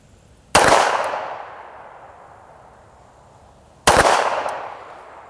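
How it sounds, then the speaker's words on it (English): Two gunshots fired at a target 20 yards away on a shooting range, each a sharp, loud, close crack followed by a long decaying echo, spaced a few seconds apart with no talking. "20 yards, 2 shots."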